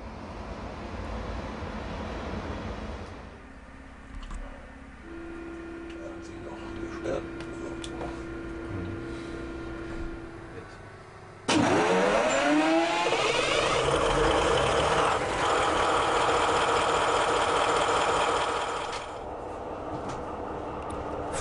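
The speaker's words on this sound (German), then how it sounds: "Der Stromabnehmer wird gesenkt und der Dieselmotor gestartet." A Siemens DualMode locomotive lowers its pantograph and starts its diesel engine: a steady low hum and tonal whine, then a sudden louder surge with rising tones as the engine fires up and settles into a strong continuous run.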